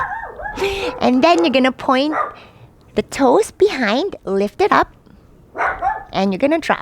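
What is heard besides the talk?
dog barking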